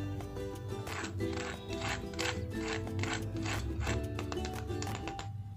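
Crispy fried semolina kachori gives a quiet series of dry, crackling crunches in a steady, repeated rhythm, close by and with no talking.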